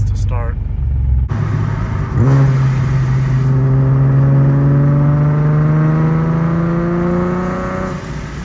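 A supercharged Nissan 370Z cranks and fires up close by, then holds a loud, steady raised idle with rising whine tones as the engine revs; a voice is heard briefly near the start.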